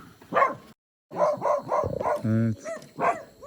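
Several dogs bark in short bursts, fairly close, in a Kogui indigenous village in Colombia, with a person speaking briefly among them.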